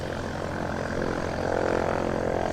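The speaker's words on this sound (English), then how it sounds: "You can probably hear some general aviation as well in the background" A general aviation light propeller aircraft from a flying school drones steadily in the background near an airport, an even, continuous engine hum with no talk over it.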